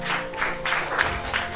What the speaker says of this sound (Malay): Okey, beri tepukan sekali lagi.